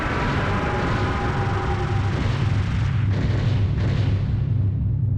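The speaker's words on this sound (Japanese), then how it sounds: "この斜め後ろに敵の爆発を見ながらクリアするのがかっこいいな。" Enemy explosions in the PlayStation shooter Einhänder form a loud, sustained rumbling roar, dense low booms rolling continuously under game effects for several seconds.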